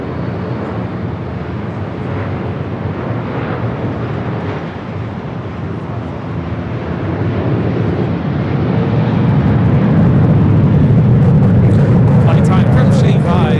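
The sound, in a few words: airplane taking off at LAX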